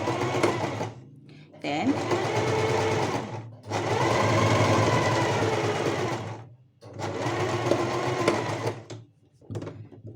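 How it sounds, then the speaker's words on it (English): A domestic sewing machine stitches fabric in a beginner sewing lesson, running in three long steady bursts with short pauses between them, close and loud, with a brief spoken word in one gap. "Now let's go ahead and start sewing."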